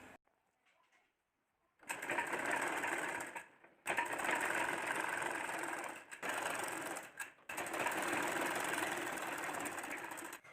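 A sewing machine stitches a folded pajama waistband in several rapid mechanical bursts separated by short pauses, starting after a near-silent moment; close and clear, no talk.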